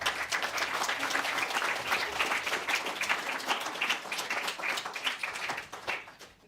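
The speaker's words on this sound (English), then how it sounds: "can we get a round of applause for our panelists?" An audience at a health equity and disability workshop applauds its panelists, a dense, steady wash of many hands clapping together for several seconds before tapering off at the end.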